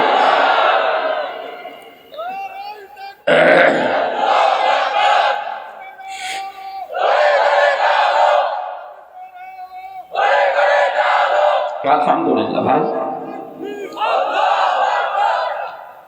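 A large crowd at a religious gathering shouts back in unison to a takbir call, loud chanted responses alternating with a single leading voice in repeated waves.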